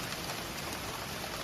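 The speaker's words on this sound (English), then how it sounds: "Pea-sized hail yesterday afternoon, shared by Cape Cod Bars." Pea-sized hail falls on Cape Cod, making a dense, steady, hissing patter that covers everything evenly, with no pauses and no voices.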